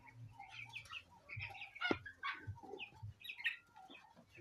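Broiler chickens on a farm cluck and chatter in a steady, busy flock, with overlapping calls close by and one sharper squawk partway through.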